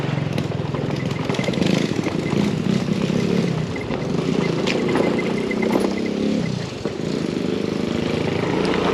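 A motorcycle descending a steep mountain road on Kampot's high coffee road, its engine droning loudly and continuously close by, with wind rush and the pitch sinking and rising as it coasts downhill.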